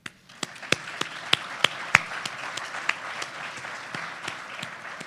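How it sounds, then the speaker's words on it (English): An audience at a West Virginia entrepreneurship competition breaks into applause, a steady patter of many hands with a few sharp, close claps standing out above the crowd, gradually thinning toward the end. "So please just a round of applause for everyone."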